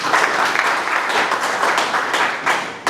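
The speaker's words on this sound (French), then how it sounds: "Applaudissons très très fort alors." An audience at a marketing presentation breaks into loud, sustained applause, dense clapping filling the room without a break.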